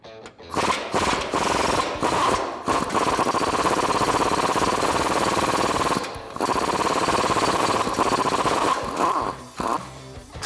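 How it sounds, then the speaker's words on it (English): Impact wrench fitted with a 19mm socket removing U-bolt nuts on a 2005-2021 Toyota Tacoma 4WD, loud rapid hammering bursts close up: brief taps, then two long sustained runs separated by a short gap, then a final short burst. "I'm going to use a 19mm socket in my impact wrench to remove the hardware that's holding on our U-bolts."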